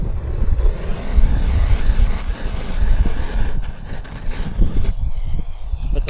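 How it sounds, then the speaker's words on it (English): Gusty wind roars and buffets the microphone outdoors where a gas oxy torch is heating metal, a dense low rumble rising and falling in waves, with no clear torch hiss standing out. "But the wind's playing up with his gas oxy here"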